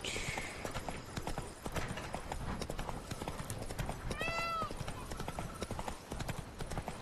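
Roach, Geralt's horse in The Witcher 3, gallops uphill with steady, close hoof clip-clops, a short neigh partway through, and game ambience and a talking voice underneath.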